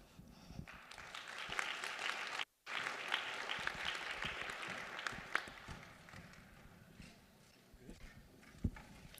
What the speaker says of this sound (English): how about another round of applause for these individuals